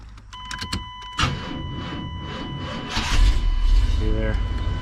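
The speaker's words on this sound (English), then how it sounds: "It started, but it had that hesitation there." A 1992 Chevrolet G20 van engine cranks and catches with a hesitation, then settles into a loud, steady rumble close by, with a voice briefly heard over it.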